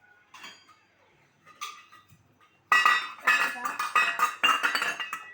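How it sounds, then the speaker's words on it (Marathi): A bowl being taken in a home kitchen to hold chopped onions for an omelette: a couple of soft clinks, then a quick run of bright, close metallic clatters and chinks of dishware. "बाउल घेतो"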